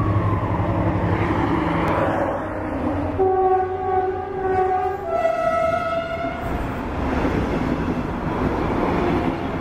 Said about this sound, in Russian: поезд в сторону Тель-Авива.